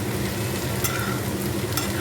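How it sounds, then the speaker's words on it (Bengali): Green peas and spring onion greens stir-fry in a hot pan for fried rice, giving a steady close sizzle with scraping stirring and no voices. "এই সবগুলোই হালকা করে ভেজে নেব।"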